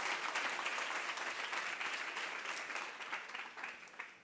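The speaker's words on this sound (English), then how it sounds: "Can we all give it a round of applause" Steady clapping from a summit audience, a dense even round of applause that stays faint and distant throughout before thinning slightly toward the end.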